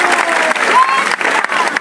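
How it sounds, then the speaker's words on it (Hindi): Crowd clapping at an outdoor political rally, a loud, dense wash of applause with some cheering, continuous with a few brief dips, voices mixed in. "ऐसे सौमित्र खान के लिए जरा ताली हो जाए।"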